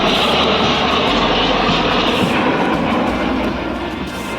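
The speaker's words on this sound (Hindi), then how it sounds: "इसके बाद शुरू होगा प्रयागराज के आसमान पर इंडियन एयरफोर्स की फ्लाइंग मशीन का फ्लाई" Indian Air Force aircraft fly past over Prayagraj, a loud, continuous engine roar with broadband rumble that holds steady throughout and eases slightly near the end, no voices.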